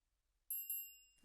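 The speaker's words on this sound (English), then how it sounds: "I've got like this little triangle here" In a beat, a triangle sample gives two bright, quick metallic dings in succession, with a shimmering high ring that fades out before a soft thump at the end. The hit is clear, isolated and otherwise quiet.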